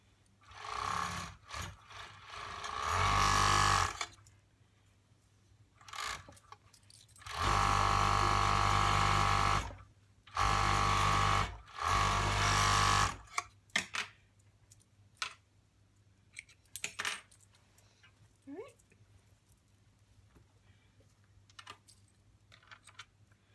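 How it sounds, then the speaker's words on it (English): A sewing machine zigzag-stitches along a boys' shirt hem, running in several loud sustained bursts with pauses between, then giving way to quieter scattered clicks and handling noises. "And then sew along the hem."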